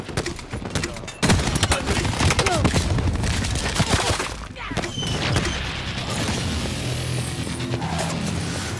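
Dense gunfire in the Xbox One shooter Black Ops 4, Kill Confirmed mode on the Arsenal map: sustained automatic bursts and sharp shots crowd together loudly for several seconds, with a heavy blast near the start amid chaotic battle noise.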